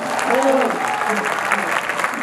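Clapping from the audience at a mushaira poetry gathering, a dense, steady burst with a faint voice briefly heard under it near the start.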